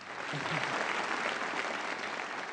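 Loud, dense applause from a TV talent show audience after a mimicry performance, a steady roar of clapping that holds evenly throughout.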